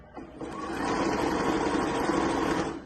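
A sewing machine stitches a zipper onto a fabric travel bag in one steady, continuous run of whirring motor and rapid needle strokes, close and moderately loud, starting and stopping cleanly.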